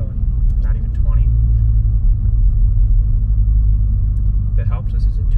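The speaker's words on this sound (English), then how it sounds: "this is what a muffler delete sounds like inside the car" A deep, droning exhaust rumble from a Mk7 Volkswagen GTI with a muffler delete fills the car interior in second gear under 20, steady and loud, with brief bits of voice or noise over it.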